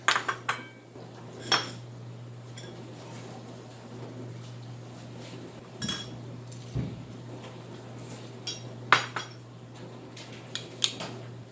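Cutlery clinks against a plate while cutting into an Instant Pot baked potato, a few sparse close taps and scrapes over a quiet, steady kitchen hum.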